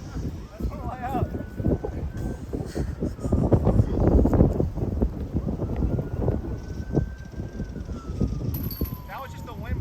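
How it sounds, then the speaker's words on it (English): Wind blowing across an outdoor disc golf course, a steady rumbling gust with microphone buffeting that swells in the middle, heard alone without talk. "That was just the wind blowing the disc."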